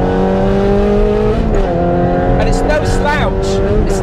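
A Ferrari 360 Challenge Stradale engine pulls hard under spirited driving, its tone climbing through the revs with gear changes, loud and close throughout, with a brief tire squeal.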